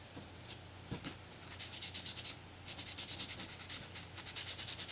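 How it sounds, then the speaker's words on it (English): A sponge is lightly rubbed over a gilded, stamped birthday card, polishing away excess flakes. The result is a quiet series of soft, rhythmic scrubbing strokes, close and fairly regular, with a brief pause near the middle. "I'm going to take my sponge, and I'm just going to lightly go over them, and that kind of polishes them"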